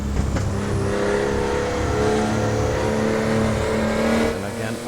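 A Porsche 911 GT2 (993) engine drones steadily in the Assetto Corsa racing game at Le Mans, Circuit de la Sarthe, holding a loud sustained tone that shifts slightly in pitch through corners; a voice may be faintly present.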